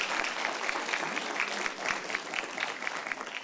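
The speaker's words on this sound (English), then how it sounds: "Let's give everyone a big, loud round of applause." A crowd claps steadily in sustained applause, dense and even throughout, with no voices standing out.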